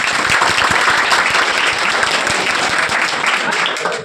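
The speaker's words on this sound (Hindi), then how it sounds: "मतलब ये तालियां" A hall audience applauds loudly at a welcome event for top students, with dense, sustained clapping close by and some voices mixed into the roar.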